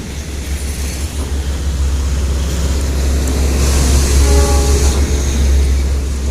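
A freight train loaded with containers is being shunted slowly forward at Cigading station, giving a loud, steady low rumble with faint metallic squeals midway. No voices are heard.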